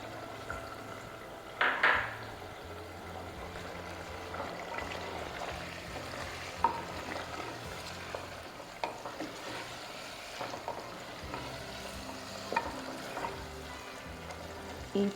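Chicken kunna meat fries in a pan with ginger and garlic, a steady low sizzle broken by occasional scrapes and clinks of a spoon stirring against the pan, fairly close with no talking.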